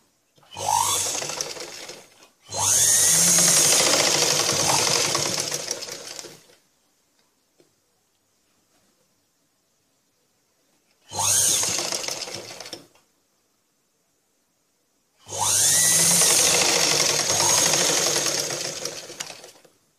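A sewing machine stitches a blouse near the shoulder, running in four loud bursts of rapid mechanical whirring and clatter, with near silence between the runs and no voices.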